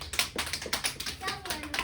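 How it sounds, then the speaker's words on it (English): A class of children applauds a team with quick, uneven claps and taps close by, while young voices talk over the clapping. "Let's give this team a round of applause."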